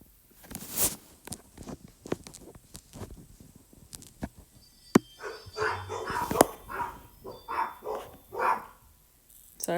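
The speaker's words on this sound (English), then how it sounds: "Sorry for my dogs." Dogs bark indoors in a home, several sharp barks early on followed by a run of rhythmic, softer bark-like yips and movement sounds, moderately close, with no talking.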